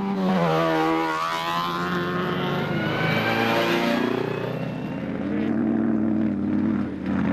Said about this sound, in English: Cars race side by side on a mirror image 4-kilometre circuit